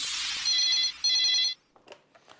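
A telephone rings in two short, bright electronic bursts, near and clear, then stops, leaving faint scattered noise.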